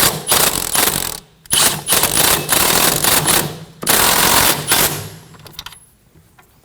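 Rapid mechanical ratcheting as a sway bar link nut is tightened on a Ford Edge (2015-2024 model), loud and close, in several bursts separated by short pauses before it trails off.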